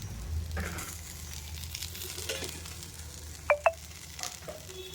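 Tindora (ivy gourd) curry fries in a pan with a soft, steady sizzle throughout, joined by a couple of sharp clinks of a utensil near the end.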